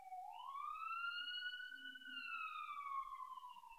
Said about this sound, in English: Oh, it's a fire truck. It's an ambulance.